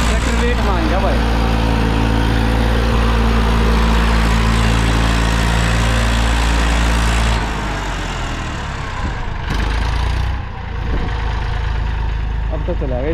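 An Eicher tractor's diesel engine runs loud and steady, stuck in the field, then the pitch drops partway as the revs ease and it settles into a lower idle.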